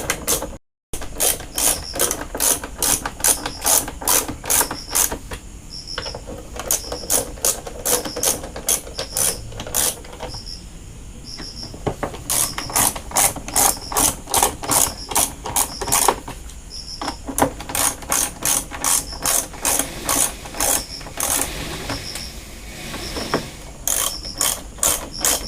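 Ratchet wrench tightening bolts on a dual 15-inch speaker box during repair, loud rapid clicking in bursts of strokes separated by brief pauses, close up and alone.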